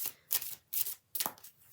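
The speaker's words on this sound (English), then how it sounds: "I feel like I should do a couple of more shuffles for them." Tarot cards are shuffled in three quick, crisp bursts with short gaps between, close by and fairly soft.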